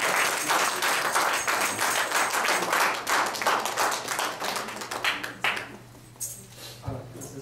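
Congregation clapping in a church, dense sustained applause with sharp individual claps throughout, loud and close, thinning toward the end.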